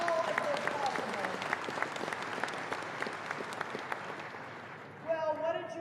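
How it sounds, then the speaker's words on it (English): Audience applause at an agricultural commodity class event in Colorado, a steady wash of many hands clapping for several seconds, fading slightly before a brief swell near the end. "help me give them a round of applause for making all of this possible."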